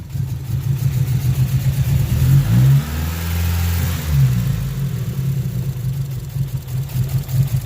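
A 2019 Chevrolet Camaro SS V8 with secondary cats deleted and a suspected exhaust leak runs with a deep, aggressive rumble, blipping its throttle twice near the middle before settling back to a loud, steady idle.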